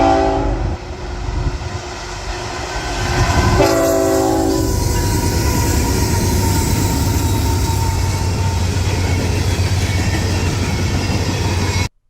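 A train rolls past in Maryland, loud and close, its horn sounding a couple of steady blasts over a continuous rumble and clatter of wheels on rails that fills the whole stretch before cutting off.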